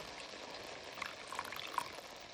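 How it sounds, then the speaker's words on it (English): Water being poured into a pan of cooking snapper, a faint, steady hiss and bubbling sizzle with a few soft splashes, heard alone. "we're going to add a little water"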